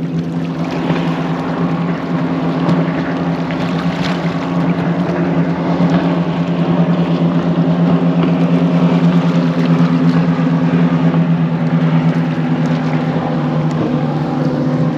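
Motorboats roar up and down the Rhine, a loud, steady engine drone with a strong low hum running unbroken from start to finish, without any talk.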